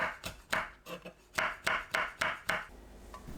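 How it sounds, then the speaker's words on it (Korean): A knife slices red chili peppers into rounds on a cutting board for a Korean dish, giving about nine crisp, close chops in a quick, slightly uneven rhythm with brief pauses. "홍고추를 둥글게 썰어주세요"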